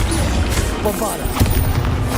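A Bombarda explosion spell in Hogwarts Legacy goes off among loud, layered combat noise, with thuds and crashes over a steady low rumble and voices mixed in.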